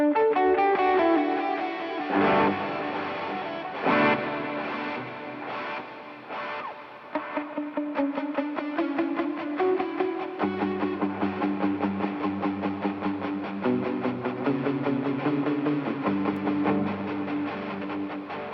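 An electric guitar played through an Alexander Pedals Rewind programmable echo with distortion, producing sustained, gritty chords and notes with repeating echo tails, loud and continuous without any voice.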